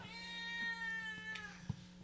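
A house cat meows in one long, drawn-out harmonic cry, close and clear in a quiet room, with a faint thump near the end.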